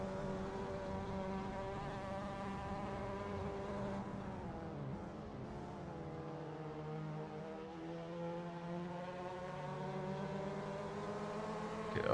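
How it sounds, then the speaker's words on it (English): A racing video game car engine, an NA MX5 in an online race, drones steadily throughout with harmonic pitch sliding up and down as revs change, continuous and fairly quiet with no talk. "I feel like I hear another engine there."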